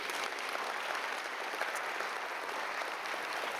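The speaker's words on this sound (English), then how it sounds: "Round of applause for the people that made it out here" Steady applause from a gathered audience at a community film screening and Q&A event, dense and continuous clapping with no pauses, moderately loud throughout.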